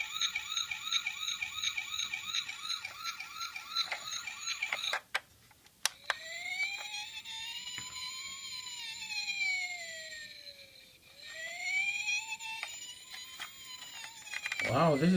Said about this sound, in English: Okay, let's show you the police car.